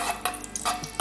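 Ghee being stirred in a hot pan before vermicelli goes in, giving a close, soft sizzle broken by several short scraping strokes of a spoon against the metal. No one speaks.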